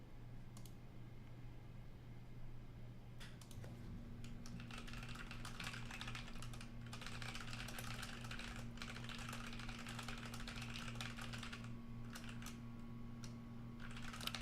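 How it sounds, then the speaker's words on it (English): A computer keyboard is typed on in quick, irregular bursts of light clicks over a low steady hum. The keys are faint and close, with short pauses between flurries. "I was just typing in the map over there"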